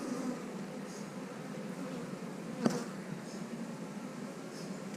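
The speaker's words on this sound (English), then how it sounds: "I see plenty of bees." Bees buzz steadily around an open beehive during an inspection, a continuous soft drone close by with a brief louder tap partway through.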